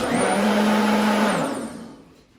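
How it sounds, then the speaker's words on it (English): A Ninja Foodi Cold & Hot Blender runs its heated cleaning cycle with water in the glass pitcher, a loud steady motor whir that spins down and fades toward the end. "it's gonna use heat as well as a pulsing action, a pre-programmed setting to actually clean the entire blender"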